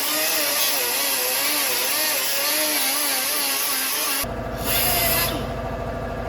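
A grinder works metal on a Chevy small block or LS engine part, producing a loud continuous abrasive whine and rasp with a wavering pitch, then shifting abruptly into a harsher, buzzier grinding tone near the end.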